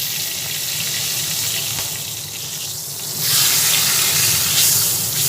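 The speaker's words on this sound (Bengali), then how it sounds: "তেল দেওয়ার পরে গোটা গরম মশলা এলাচ দারচিনি লবঙ্গ সবই দিয়ে দিলাম সবই ভাজা হচ্ছে" Whole cardamom, cinnamon and cloves frying in hot oil, a steady broadband sizzle that swells louder partway through and stays dense to the end, with no talking.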